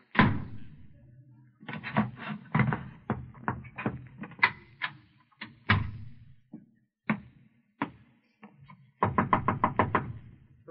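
Knocking on a door as a radio drama sound effect: several sharp raps in uneven clusters, ending in a fast run of knocks, close and clear with no talk over them.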